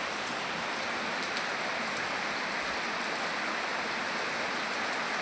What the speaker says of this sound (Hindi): एकदम झमाझम वाली बारिश हो रही है